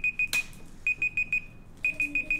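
A timer alarm goes off in a homeschool room, sounding three groups of rapid, loud electronic beeps at a steady pitch with short pauses between groups and no talking.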